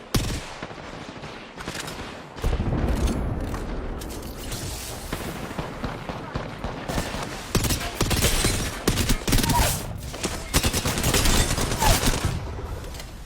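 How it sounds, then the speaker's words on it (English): Rapid bursts of gunfire and heavy booms from a shooter video game, loud and sustained throughout, with dense volleys of shots and explosions piling up and a voice faintly beneath the barrage. "They spotted me. I'm taking shots."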